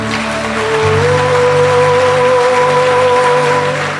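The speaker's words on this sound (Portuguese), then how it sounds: "Você pode aplaudir o Senhor por essa casa" A church congregation applauds during a sermon, a continuous wash of clapping over sustained keyboard tones, steady and fairly loud for the whole stretch.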